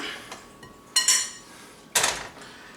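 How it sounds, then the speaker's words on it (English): Utensil clinks against a bowl while dry flour and salt are stirred together, two sharp scraping clatters about a second apart with quieter taps between, close and alone. "So we're going to add in a teaspoon of salt to our flour and just give that a good little stir"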